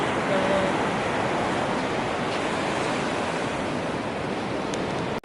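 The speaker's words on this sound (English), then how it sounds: "Cute little stream, luckily fairly easy to get over." A small stream in the Catlins, New Zealand, rushes as a steady, broad wash of flowing water that stays constant and fairly loud throughout, with no voices.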